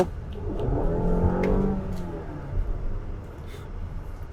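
A Mazda CX-5 petrol engine revs up loudly, pitch climbing as it accelerates, then settles into a steady roar, close and powerful with no talking.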